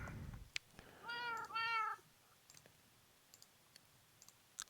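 Cats in the Minecraft video game give two close meows in quick succession, preceded by a soft rumble and followed by sparse quiet clicks.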